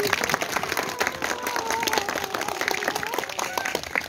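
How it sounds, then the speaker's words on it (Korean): A seated outdoor crowd of citizens at a chilly evening book concert gives steady, dense applause throughout, with scattered voices and cheers mixed in. "이분들을 위해서도 큰 박수 부탁드리겠습니다."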